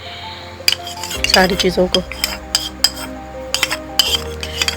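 Castor oil, aloe vera gel and lemon juice being stirred together in a bowl, a spoon clinking and scraping against the dish in quick irregular taps, close by, with someone speaking briefly over it.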